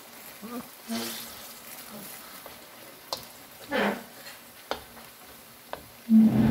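Banana cue cooking, with bananas stirred in hot oil and caramelized sugar: a low bubbling sizzle broken by sharp clinks and scrapes of the spoon, some swelling hiss, close and moderately loud.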